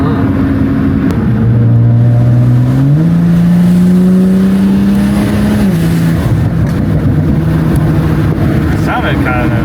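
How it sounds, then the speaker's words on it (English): A BMW fitted with an SSR downpipe accelerates while driving, engine pitch climbing through gear changes with intake air noise, loud and close inside the car. "you could definitely hear the air being sucked in"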